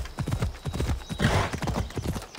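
Horse hooves clip-clopping at a quick, steady rhythm in the Assassin's Creed Odyssey video game, close and loud with dense repeated hoof strikes and a brief burst of noise midway.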